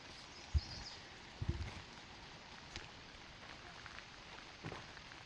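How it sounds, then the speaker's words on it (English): Light rain falls at a wilderness trailhead, a faint steady patter with a few louder drops and knocks scattered through the quiet. "it's still raining a little bit"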